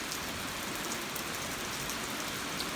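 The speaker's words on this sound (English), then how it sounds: "It's not a heavy rain, so I don't expect it to be too much." Steady light rain falls outdoors in a continuous, even hiss of drops on surfaces, close and unbroken, with no voices.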